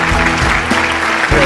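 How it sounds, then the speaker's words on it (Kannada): Audience applause greets the judges as they walk on stage at a dance competition semi-final, a dense burst of clapping filling the whole moment. "ಈ ಮೂವರಿಗೂ ಜೋರಾಗಿರುವಂತಹ ಚಪ್ಪಾಳೆ ಕೊಡಿ and please welcome them on the stage"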